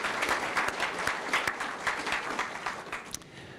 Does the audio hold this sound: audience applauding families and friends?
yes